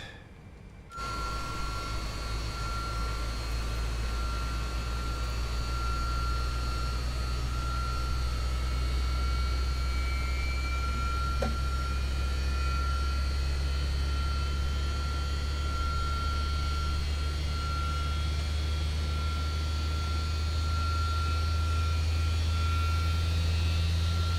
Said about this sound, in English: Those engines, man, that sound.